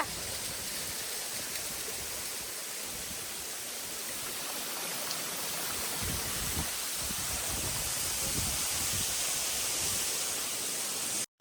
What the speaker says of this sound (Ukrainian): Елсалто де Ланов'я це мальовничий водоспад і природна пам'ятка в Іспанії